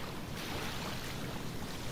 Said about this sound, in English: Look at the waves coming toward you.